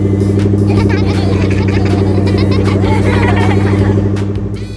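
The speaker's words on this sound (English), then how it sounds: "The bus is happily rolling along the road." A cartoon bus rolls along a road with a steady, loud engine hum and droning tones running throughout, likely with background music mixed in.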